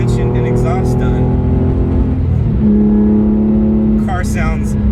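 Porsche 911 with a new exhaust and suspension on a mountain road run up Angeles Crest, its engine droning loud and steady from inside the car, rising and shifting pitch through gear changes, with speech over it.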